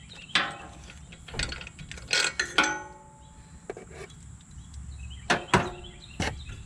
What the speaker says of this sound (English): Put the ratchet back on it. Just snug it down.